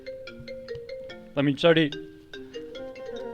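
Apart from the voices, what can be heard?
mobile phone ringtone ringing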